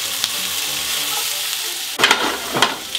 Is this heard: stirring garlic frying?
yes